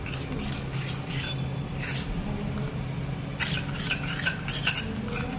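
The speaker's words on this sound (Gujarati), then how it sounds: "બરાબર અને આ બધું મિક્સ કરી દેવાનું." Flour and two spoons of ghee are mixed for samosa dough, giving a steady scraping, rubbing stir against a bowl with a few brighter scuffs and no talk.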